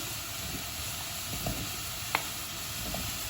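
Apples cooking in a pan over medium heat, a steady gentle sizzle with a few soft clicks of stirring.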